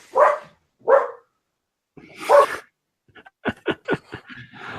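Dogs bark three times in separate loud, close woofs, then a quick run of shorter, sharper yips and barks follows in fast succession.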